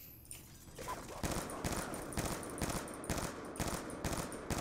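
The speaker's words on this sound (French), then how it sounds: "j'ai flinch au moment où j'ai tiré la rafale" Gunfire bursts in the shooter Black Ops 2, a rapid series of loud, evenly spaced shots that repeat in a steady rhythm close by and dominate the scene.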